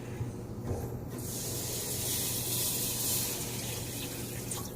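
Water pours in a steady, continuous rush, close and even, with no voices.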